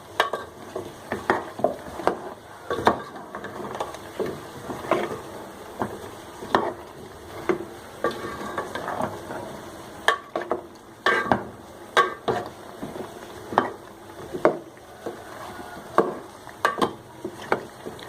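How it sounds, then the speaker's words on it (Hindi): Chicken and potato pieces are stirred together in a cooking pot, with repeated scraping and clacking strokes over a faint sizzle, close and fairly quiet. "अब हम इनको अच्छी तरह से मिक्स कर देंगे।"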